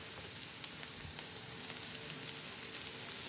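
Vegetables frying over reddened onions in a pan, a soft continuous sizzle with faint small crackles throughout, quiet and steady without speech.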